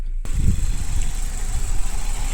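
A 2020 Maruti Ertiga ZXI+ petrol engine idles close by with a steady, smooth low rumble that starts after a brief quiet moment and holds evenly without revving.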